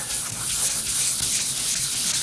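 Sandpaper rubs wet over the painted body of a 1977 Camaro Z28, giving a close, continuous hissing scrub with soft rhythmic strokes and no voices.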